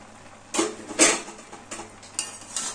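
Fried potatoes and fried bori dropped into a cooking pan while making lau shak with poppy seeds, a few soft clinks and scraping knocks of utensil against metal, quiet and close.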